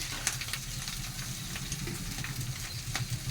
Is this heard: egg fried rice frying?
yes